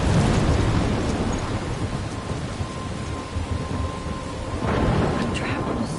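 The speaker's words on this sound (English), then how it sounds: "I'm trapped in a storm?" Heavy thunderstorm in a PS4 video game, with steady loud rain and deep rolling thunder swelling at the start and again near the end.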